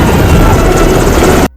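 Loud, close helicopter rotor and engine roar from an action film, a steady thick whirring drone that fills the moment and then cuts off abruptly.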